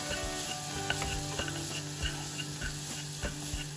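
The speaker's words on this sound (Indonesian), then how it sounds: "Ingat apinya kecil ya, biar enggak gosong. Aduk terus sampai rata," Sundubu jjigae base paste with soy sauce being stirred and fried in a pan over low heat, a steady soft sizzle with repeated scraping strokes of the spoon, close and alone.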